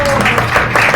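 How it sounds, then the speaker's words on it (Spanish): A church congregation briefly applauds during a sermon, fairly loud but short, with speech-like tones mixed into the clapping. "Den un aplauso a Gerson."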